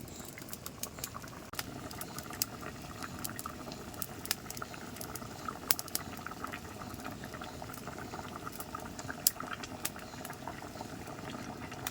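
Curry gravy for chicken bubbling in a pot on the stove, a faint, continuous simmer full of small irregular pops and crackles, close by and quiet, with no voices.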